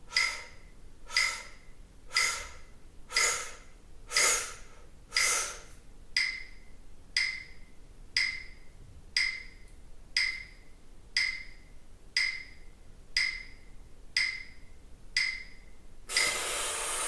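A person doing a breathing exercise, drawing air in through the nose in seven short stepped sniffs, repeated in a regular rhythm of close, soft breaths before a longer rush of air at the end.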